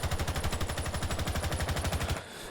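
Rapid automatic rifle fire in Rainbow Six Siege, a steady unbroken burst of evenly spaced shots lasting about two seconds before cutting off, loud and close with no talking.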